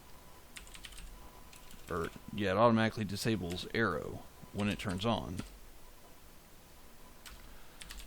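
Computer keyboard typing while coding a C++ class, soft quick key clicks scattered through the clip, partly under someone talking in the middle.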